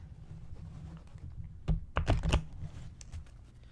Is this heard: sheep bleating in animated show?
no